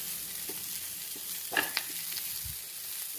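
Onions and grated coconut sizzle in a pan for a chutney, a soft continuous frying hiss broken by a few scraping stirs of a spoon, close and moderately quiet, with no talking.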